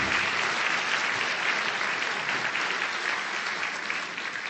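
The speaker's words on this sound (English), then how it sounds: "Can we give them a round of applause?" Law school graduation audience applauding legal educators, a dense, steady wash of clapping from a large crowd that holds loud throughout and eases slightly near the end.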